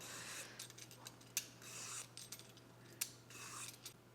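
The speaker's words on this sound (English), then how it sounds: "For things like pasta salad, I do like to peel the cucumber just so that we don't have that kind of fibrous peel." Cucumber being peeled for pasta salad, soft repeated scraping strokes of a peeler with a couple of sharper clicks, quiet and close against a steady low hum.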